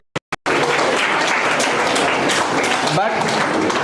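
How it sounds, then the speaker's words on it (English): A couple of sharp single claps, then a seminar audience on entrepreneurship in India breaks into steady, loud applause that holds to the end, with a voice briefly audible in it. "Please, you can clap."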